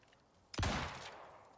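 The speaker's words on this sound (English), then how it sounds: "let's use our hunting rifle" A single loud hunting rifle shot in a desert canyon video game hits sharply after a quiet moment and then rolls off in a long fading echo, with no talking.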